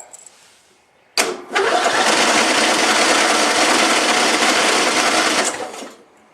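A small engine fitted with a carburetor solenoid cranks close by in one sustained attempt lasting about four seconds. The loud, rapid mechanical churn cuts off without the engine catching.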